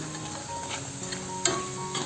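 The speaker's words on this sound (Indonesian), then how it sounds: "Dan ini kita goreng sambil kita aduk-aduk terus sampai keripiknya itu benar-benar garing dan kering." Chips fry in hot oil as they are stirred continuously, giving a quiet, steady sizzle broken by light scraping clicks of the stirring utensil, including one sharper clink.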